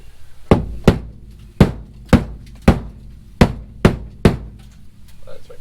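A hammer knocks at sound deadening on a first-generation Toyota Celica project car, roughly eight hard, close thuds evenly spaced about half a second apart.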